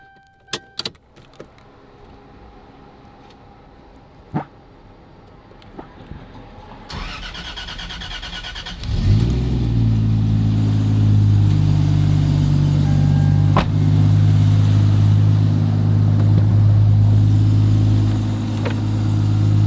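A Toyota Soarer with a 1JZ engine, in neutral, cranks and catches after a few quiet clicks and thumps, then settles into a loud, steady idle that fills the rest of the clip.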